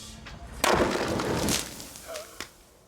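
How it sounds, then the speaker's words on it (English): A sharp, loud blast erupts as molten salt is dropped into toilet water, followed by a brief rumbling decay and a smaller crack near the end. "A larger cupful of molten salt equals a bigger explosion"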